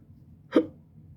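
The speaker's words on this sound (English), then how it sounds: "I'm getting the hiccups." A single sharp hiccup from an adult, one brief clear burst standing alone against a quiet background.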